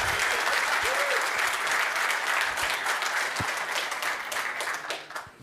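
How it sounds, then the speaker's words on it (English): A large audience applauds Dennis Clark at a radio programming summit, dense steady clapping that fills the room and fades slightly toward the end, with no talk over it. "Give Dennis a little round of applause."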